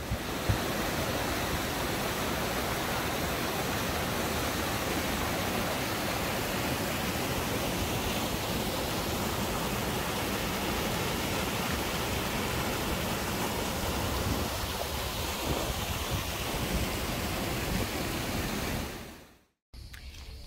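Water rushing from a waterfall in the Greek countryside: a steady, loud, unbroken roar that stays even for about nineteen seconds before cutting off abruptly.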